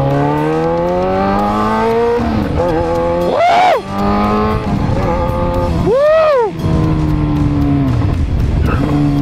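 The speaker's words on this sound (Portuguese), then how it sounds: "deu uma freada aqui que eu acho que eu precisava subir um pouquinho o giro do motor" A motorcycle engine drops in pitch as a first-time rider brakes hard, with sharp revs blipping between gears; a brief shout cuts in.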